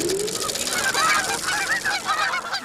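Greater snow geese honk in a loud, dense flock, their overlapping calls pouring out in a continuous chorus with no pauses and no voices.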